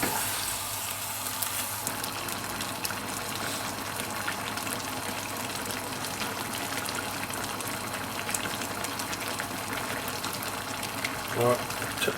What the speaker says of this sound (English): Bring that up to the boil now